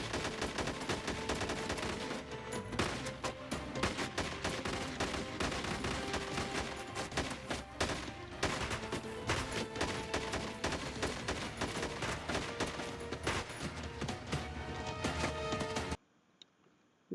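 Sustained heavy gunfire from a TV drama shootout, dense overlapping shots and automatic bursts filling nearly the whole stretch at close, loud level before cutting off abruptly near the end.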